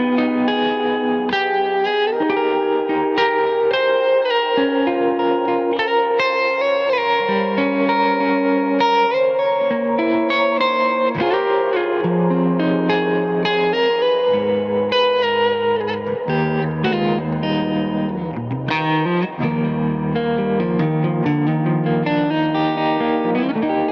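A Gibson baritone SG electric guitar with a thick, warm distorted humbucker tone plays a continuous run of notes and chords, soaked in reverb and echo effects, no voices.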